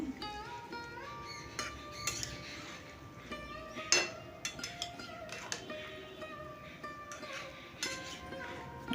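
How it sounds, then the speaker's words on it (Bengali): Boiled cauliflower stirred gently with spices in a pan, with soft scattered clinks and scrapes of a utensil against metal, quiet and irregular. "খুব হালকা হাতে মশলার সঙ্গে আমি মিশিয়ে নিচ্ছি"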